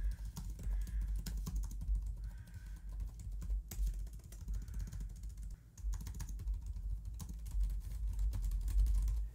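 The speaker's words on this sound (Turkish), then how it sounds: "Klavyenin sesi konusunda da başarılı olduğunu söylemek istiyorum." Steady, rapid clatter of a Huawei Matebook 14s 2023 laptop keyboard being typed, close and continuous with a few heavier keystrokes, no voices.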